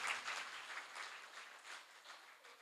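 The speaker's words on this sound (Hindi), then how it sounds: "इनके लिए एक जोरदार तालियों से इनका स्वागत" An audience applauds at a Gujarat seminar on electrohomeopathy, a soft, fairly distant wash of clapping that stays fairly even for a couple of seconds without anyone speaking.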